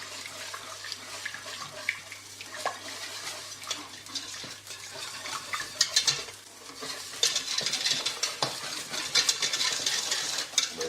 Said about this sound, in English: Keep on whisking until all the milk's incorporated.